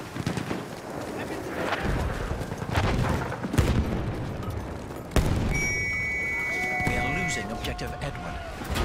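Grenade explosion in the video game Battlefield 1 on the Amiens map in Conquest mode, a sharp blast at mid-clip within a dense battlefield din of gunfire and chatter, with shouted voices throughout.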